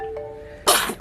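A baby gives one sharp, close sneeze after a quiet moment, loud and brief with a soft tail.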